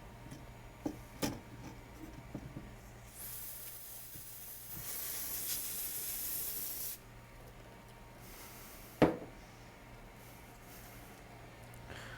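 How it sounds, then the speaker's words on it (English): Contact cleaner sprays onto a MacBook part in a steady hiss lasting a few seconds, with a few sharp clicks before and one after, under a low hum. "I blasted that with some contact cleaner"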